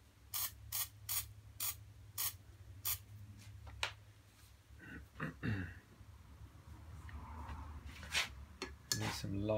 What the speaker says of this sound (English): Just give those a little spray.